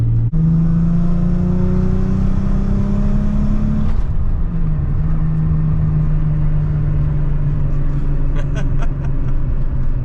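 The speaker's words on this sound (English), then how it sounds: "very loud, raspy, got a couple exhaust leaks, but either way, car sounds great" A Nissan Z fitted with a Stillen exhaust that has a couple of exhaust leaks revs loud and raspy up close. Its pitch rises, drops sharply, then settles into a steady rumbling idle.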